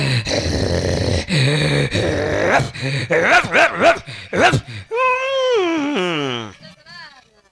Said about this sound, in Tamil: இந்த பொட்ட நாய் சொல்லும் பாரு என்ன